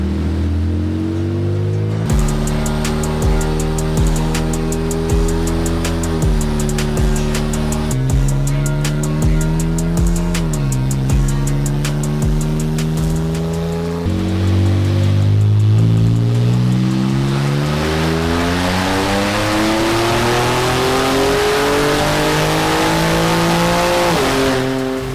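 An Infiniti Q50 with a VR30 engine on E85 fuel revs up on a dyno in one long rising pull, loud and close, its pitch climbing steadily with a brief dip midway.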